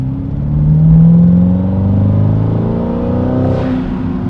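Twin-turbo C8 Corvette making about 900 horsepower, driven on the street, its deep engine rumble swelling and easing before a brief turbo blow-off whoosh near the end, loud and close with no talking.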